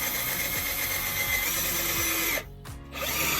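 A power drill driving screws whirs continuously up close during a renovation, with a brief drop in the motor noise near the end before it resumes.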